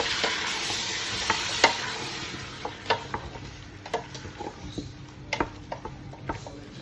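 Chopped ripe tomatoes and cherry tomatoes being stirred in a pan for a tomato sauce. A steady soft sizzle runs throughout, with scattered clicks and scrapes from the spoon against the pan.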